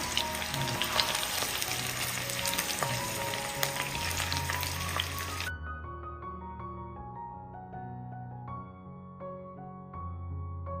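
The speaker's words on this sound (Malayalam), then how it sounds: "നമുക്ക് ഇത് തിരിച്ചും മറിച്ചുവിട്ട് ഒന്ന് ഫ്രൈ ചെയ്തെടുക്കണം." Three medium onions and three medium tomatoes frying in a pan, a steady loud sizzle running the whole time with no talk, turning softer and more muffled partway through.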